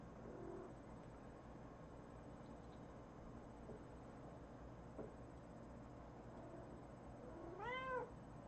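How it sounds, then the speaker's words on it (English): A house cat gives a single faint meow near the end, low in volume against a quiet room with a steady background hiss. "What is it with the kitty?"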